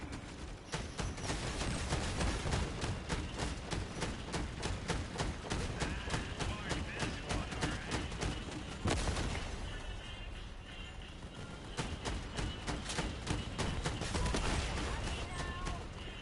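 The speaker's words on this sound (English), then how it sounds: "That guy shot something, I don't know what it was" Weapon fire in the vehicle combat game Crossout, a steady clatter of rapid shots and bursts running almost throughout, with a heavier blast near the middle and mixed game noise beneath.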